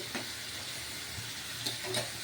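Soft sizzling of an egg being fried and stirred with spices in a pan for a Bengali egg bhuna, faint steady frying hiss with a few light stirring scrapes and clinks.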